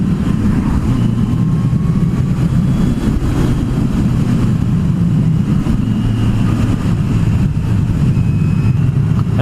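A 2020 Kawasaki Z900 motorcycle engine runs steadily while riding, a loud, continuous low drone mixed with wind rush that holds constant throughout.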